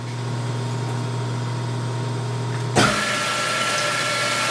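An FMB Phoenix mitering band saw with a 440 motor and hydraulic feed, cutting solid steel, hums steadily with a low tone, then shifts abruptly to a broader, louder whirring, heard alone at close range.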